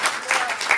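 Brief burst of audience applause at a stand-up comedy showcase, a short, busy patter of clapping from a small crowd.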